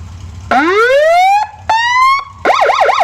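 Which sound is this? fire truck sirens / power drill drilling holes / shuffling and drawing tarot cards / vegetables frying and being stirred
fire truck sirens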